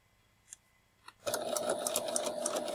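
After a couple of faint clicks, a sewing machine starts up and runs a seam, its rapid mechanical stitching loud and steady at close range for the final second and a half.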